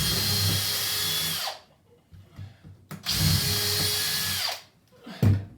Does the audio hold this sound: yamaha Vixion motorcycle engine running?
no